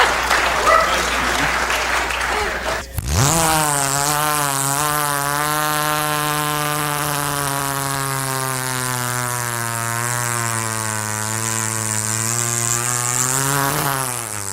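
A man imitates a chainsaw with his voice on stage at a Southern Gospel event, holding a steady, buzzing, engine-like drone for about eleven seconds that starts abruptly and stays loud and close, with crowd noise at the start.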